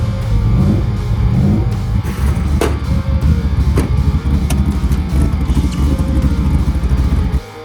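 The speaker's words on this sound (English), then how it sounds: "fired the Mustang up with no problem at all" A Ford Mustang engine runs steadily at close range, a continuous low rumble with a few sharp clicks and knocks over it.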